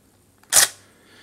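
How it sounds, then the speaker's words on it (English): A Nikon DSLR fires once, a single sharp shutter and mirror clack, close and loud, then quickly decays into quiet. "try hitting the shutter again"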